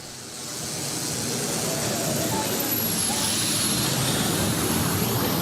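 The Whispering Giant, a turbine-powered pulling tractor, leaves the start line at a tractor pulling event, its loud jet-like roar building quickly and then holding a steady, broad rush with a thin high whine.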